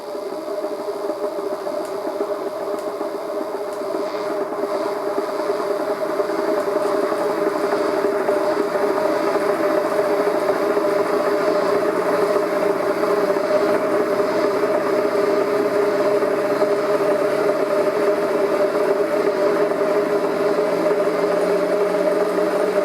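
A generator without braking, an anti-Lenz-effect build, runs steadily after start-up, a loud, continuous mechanical hum and whine with a tone that climbs slightly as the speed settles.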